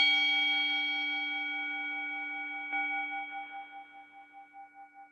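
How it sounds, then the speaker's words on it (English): A single struck peace bell rings out clearly, its pure sustained tones slowly fading and beginning to pulse as the resonance decays, heard alone in a quiet room. "This morning we ring our peace bell for that lady"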